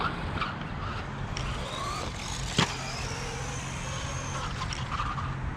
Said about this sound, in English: I love the tire screeches.